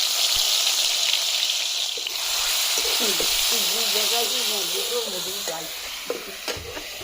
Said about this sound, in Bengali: পরিমাণ মতন তেল দিয়ে দিলাম এখন রসুন বাটা দিয়ে দিলাম